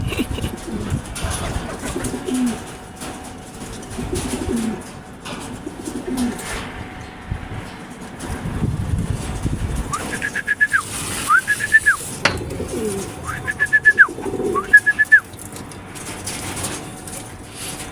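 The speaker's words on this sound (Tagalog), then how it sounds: "isang kalapati na yon" Pigeons coo in short repeated phrases in the second half, fairly close, over quiet outdoor background with occasional soft rustling.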